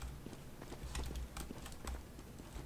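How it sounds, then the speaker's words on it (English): An enemy player's footsteps in the shooter game CS:GO, a run of quick, evenly spaced clicky steps over a low background hum, moderately loud and without talk. "I can hear him walking, I think I know where he is."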